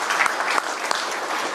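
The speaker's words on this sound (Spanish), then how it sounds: "un aplauso para Nacho" A crowd claps steadily for a second or two, a dense, even patter of many hands with no voices standing out.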